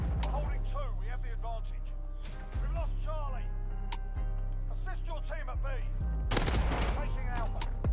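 Gunfire from the Striker 45 SMG in Call of Duty Modern Warfare comes as several short rapid bursts against game music and effects, while players talk over the action.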